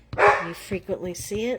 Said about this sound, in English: I'm sorry about my dog, guys.